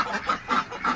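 Peking ducks quack nearby in a short run of about four nasal, honking calls in quick succession, clear and fairly loud, with no talking over them.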